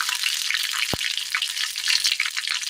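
Fennel and cumin seeds sizzle in hot oil with dried red chillies for a Kerala curry, a loud crackling fry with dense pops and one sharp tap partway through.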